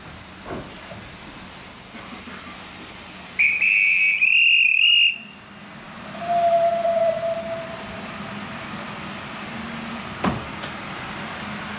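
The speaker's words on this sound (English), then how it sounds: "someone's going to blow a whistle soon" A sharp, steady train guard's whistle blast rings out for about two seconds amid low rumbling railway station ambience, followed by a softer distant tone.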